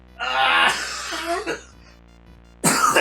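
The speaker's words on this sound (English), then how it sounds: "As I induce coughing in myself." A person deliberately coughs a few times up close, harsh bursts separated by short pauses, then one final loud cough.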